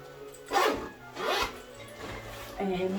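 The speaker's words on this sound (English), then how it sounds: "It's very handy, you can zip it as well." An H&M handbag is zipped up close, with two quick rasping strokes and then shorter scrapes, crisp and near.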